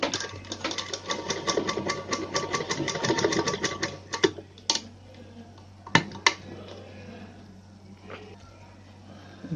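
Sewing machine stitching a blouse neckline, a fast steady run of needle strokes for about four seconds, then a few isolated stitches and clicks, close up with no talking.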